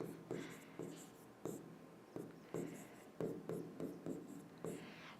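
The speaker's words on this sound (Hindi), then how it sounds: "यहाँ पे भी लिख देती हूँ।" Handwriting during a botany lesson on seed classification, with a pen stroking across a surface in short repeated bursts. A soft voice murmurs faintly underneath.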